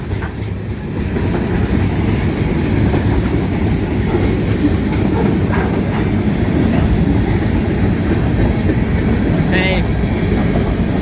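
A train rolls past at a railway museum, its steady loud rumble and rhythmic clatter of wheels on rail filling the scene close by, with a brief high squeal near the end and a short voice at the start.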